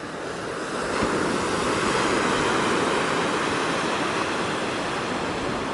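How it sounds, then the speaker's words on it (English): Ocean waves crash against the rocky Portuguese coastline, a loud, continuous roar of surf that swells after the first second and holds steady, mixed with wind. "The waves are clashing, and down there, beautiful."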